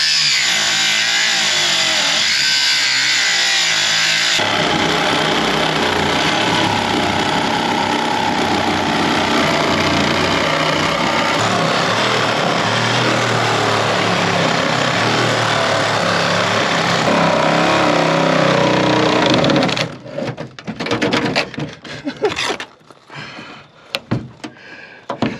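A power tool roughly cuts a heavily Bondo-filled fender off a 4x4 Ford Ranchero that sat forgotten for over 30 years. A loud, continuous grinding cut runs for about twenty seconds, then breaks into sporadic clanks and rattles.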